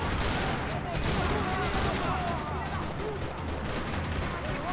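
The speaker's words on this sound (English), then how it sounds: "Another parking lot rattling with gunfire." Sustained gunfire in the video game Max Payne 3 rattles through a parking lot shootout, dense overlapping shots and bursts filling the whole stretch loudly without pause.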